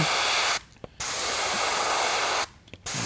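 An airbrush sprays moss green paint onto a perch fishing bait in loud, close, steady hissing bursts, cut by two short pauses.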